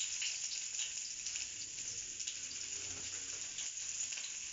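Garlic frying in a pan for ginisang sayote, a steady close hiss and crackle of oil that holds level throughout with no talking.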